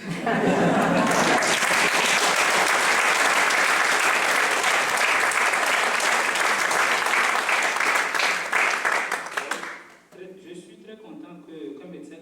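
A conference audience claps loudly and continuously for about ten seconds, then the applause fades out and a voice begins speaking.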